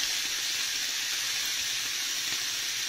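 Shredded cabbage and lardons dropped into a hot pan give a steady, even hiss of frying that holds at a moderate level throughout, with no voices.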